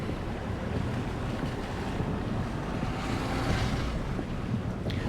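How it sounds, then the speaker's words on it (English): A car wades through deep floodwater during Storm Bert, a loud continuous rushing and sloshing of water mixed with wind buffeting and a low engine rumble, with no talking. "we're wading pretty deep in here"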